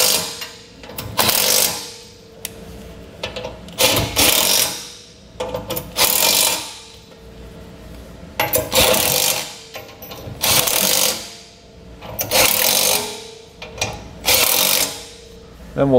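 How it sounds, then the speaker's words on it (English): A power tool runs down trailer hitch bolts with a 3/4 inch socket on a 2015 Ford F-series truck, loud repeated bursts of whirring and rattling separated by short pauses. "we're going to run them down with a 3/4 inch socket."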